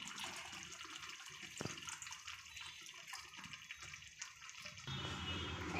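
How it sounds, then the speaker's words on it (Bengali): Water poured into a pot of beef and potato aloo ghati on the stove gives a steady, faint splashing rush for several seconds that grows a little fuller near the end, with no talk over it. "এবার দিয়ে দিব পানি।"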